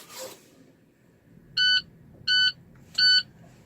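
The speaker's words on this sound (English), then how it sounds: "we will test the low air warning light and the buzzer system" A truck's low air pressure warning buzzer sounds three short, loud electronic beeps at an even pace after a brief soft noise, with quiet background in between.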